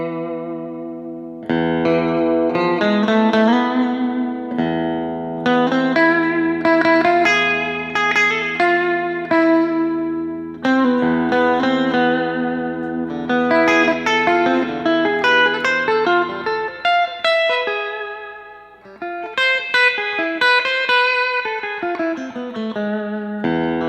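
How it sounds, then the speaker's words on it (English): Electric guitar in a clean tone through a tube amplifier's built-in reverb, chords and single notes ringing with a wash of reverb tail, played steadily and loud with brief pauses between phrases. "this is going to be the tube amp reverb with a clean setting"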